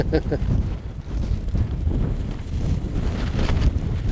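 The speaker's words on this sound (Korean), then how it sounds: "지금 부는 게 동풍 바람이 부는구나." A gusty spring east wind blows outdoors at a shallow-water fishing spot, buffeting the microphone with loud, continuous low rumbling and fluctuating gusts.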